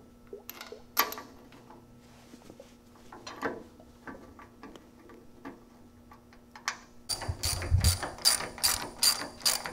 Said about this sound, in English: And then we'll just bolt it back up.